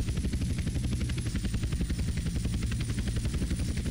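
A helicopter in the video game GTA San Andreas flies with a steady, rapid rotor chop and engine drone, constant and close throughout with no voices.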